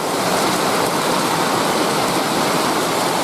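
Morning rain water pours steadily off a house roof, a dense, loud, unbroken rushing wash with no pauses or voices.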